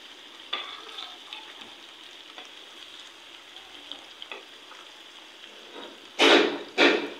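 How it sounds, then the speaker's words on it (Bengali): Beef tripe and potatoes fry in a pan with a low, continuous sizzle, broken by occasional scrapes of stirring and two loud, sharp bursts of spattering near the end. "তো ভালো করে লাড়াচাড়া দিয়ে বুড়িগুলো মিশাই নেব।"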